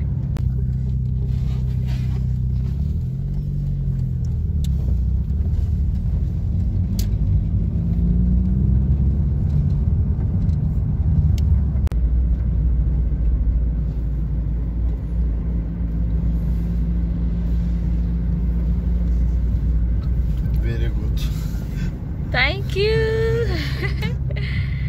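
Steady low engine rumble and road noise from inside a car as it drives along, continuous and fairly loud, with a brief higher-pitched chirp or whine near the end.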